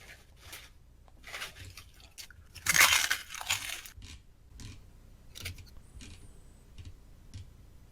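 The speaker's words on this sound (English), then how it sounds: "I'll give you a good crunch." Crisps being eaten up close: one loud crunchy bite followed by a string of quieter crunching chews and small clicks against a hushed room.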